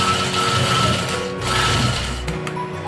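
A sewing machine stitches a round sleeve on a garment, its motor running in a steady whirring burst up close, easing briefly before running on and stopping near the end; no one speaks.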